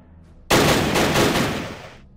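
Sustained gunfire from the World War II strategy game Battle Academy: a sudden, loud burst of rapid shots that holds for about a second and a half before tailing off, with no talking.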